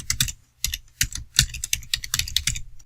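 Code is typed on a computer keyboard in quick bursts of close, crisp key clicks with short pauses between runs, no voices over them.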